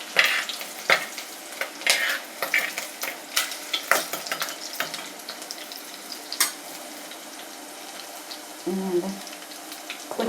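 Garlic, ginger and green chillies sizzling and being stirred in a hot pan, with steady frying crackle punctuated by scraping stir strokes, close and moderately loud.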